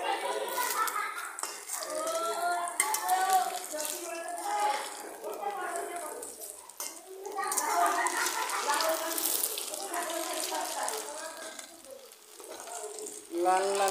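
Sago fritters frying in hot oil in a home kitchen give a steady crackling sizzle throughout, with occasional light clinks of utensils against the pan, under continuous talk.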